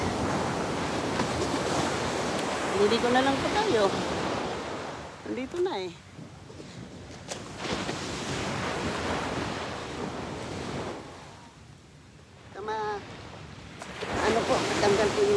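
Broadband surf rumble and wind buffeting on a microphone, with people talking intermittently nearby over the steady wash of waves.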